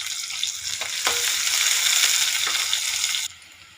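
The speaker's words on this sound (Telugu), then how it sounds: "ఉల్లిపాయ ముక్కలు వేసుకుంటున్నాను. వేసుకొని బాగా ఫ్రై చేసుకోవాలి." Onion pieces sizzle and fry in hot oil for a tomato curry, a steady loud crackling hiss with a few stirring scrapes, dropping off abruptly near the end.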